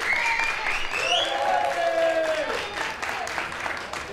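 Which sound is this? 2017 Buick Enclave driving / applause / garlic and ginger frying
applause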